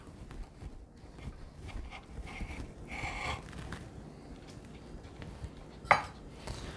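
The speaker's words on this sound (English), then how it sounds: "For your sausage, just cut it in half." A knife cuts sausage on a cutting board in a kitchen making Vietnamese-style fried rice. Soft, irregular knocks and scrapes are heard, with one sharper tap near the end, over low background noise.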